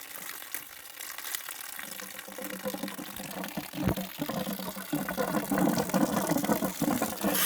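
Water draining out through a hot-side water heater line, a steady rushing flow that grows louder and fuller in the second half, with a low engine-like hum and a few knocks underneath; no talking.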